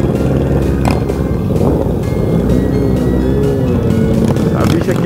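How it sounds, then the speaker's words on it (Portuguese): A Yamaha XJ6 motorcycle rides with other motorbikes through a horseback parade, its engine droning loudly and continuously close by as someone talks over it. "Essa bicha aqui é barulhenta, essa moto aí, velho."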